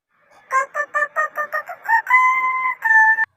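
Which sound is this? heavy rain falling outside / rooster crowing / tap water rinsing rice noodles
rooster crowing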